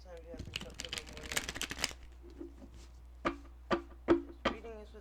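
Tarot cards are shuffled in a rapid riffling flurry for about two seconds, followed by several separate, sharper card taps and slaps, all close and fairly quiet, with no one speaking.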